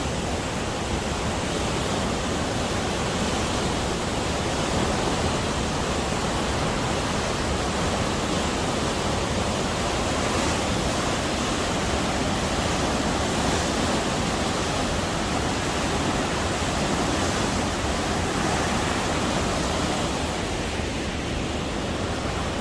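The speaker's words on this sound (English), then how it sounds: "All the water in that river comes right down through that crack." The whole flow of the Emerald River forces through a narrow rock crack, a loud, constant roar of churning water close by that holds unbroken and steady, with no voices.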